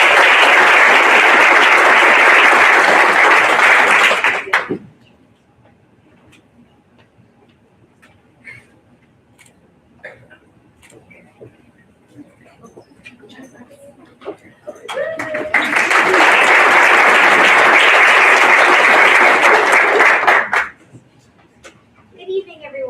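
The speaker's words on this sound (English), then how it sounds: "Let's give them another round of applause" Two bursts of loud, full applause from an audience at a school board meeting honoring students of the month, each lasting about five seconds, separated by a quieter stretch of faint room noise and brief talk.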